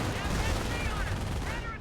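Dense battle gunfire in Company of Heroes, machine-gun bursts mixed with heavier cannon fire from a Panzer IV, a continuous crackling barrage, loud and close with a faint voice underneath.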